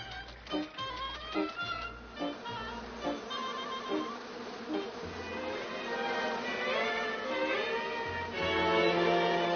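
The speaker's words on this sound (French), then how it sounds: "c'est plein de papillons et d'abeilles" A steady buzzing hum of bees runs throughout in a Smurfs cartoon, mixed with musical tones and swelling slightly louder toward the end.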